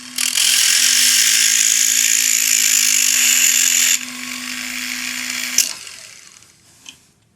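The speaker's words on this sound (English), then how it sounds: "is another screw mandrel, only with a cutoff wheel, and this is a Carbide thin wheel." Pendant drill spinning a brittle carbide thin cutoff wheel on a screw mandrel, a loud steady high whine with a constant hum that drops in level midway, then winds down and fades to silence.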